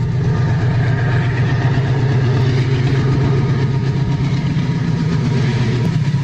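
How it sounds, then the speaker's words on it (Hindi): An empty freight train hauled by a WDG 6G locomotive rolls through Delhi's Sewa Nagar railway station on the Delhi Ring Railway, giving a loud, steady, close rumble of engine and wagons that holds throughout without voices. "और एक ये मालगाड़ी आ रही है।"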